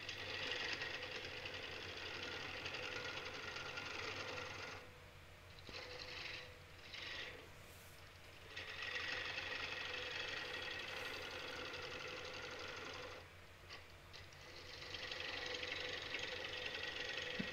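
Red cedar spinning on a wood lathe while a tool takes light passes, a steady whirring hum with a scraping cutting rasp that drops away twice as the tool lifts off, then resumes.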